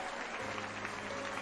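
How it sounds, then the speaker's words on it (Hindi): An audience gives steady, soft applause to honour mentors, a dense, even patter heard at a distance with no voices over it. "उनके लिए एक जबरदस्त ताली होनी चाहिए, जोरदार ताली होनी चाहिए"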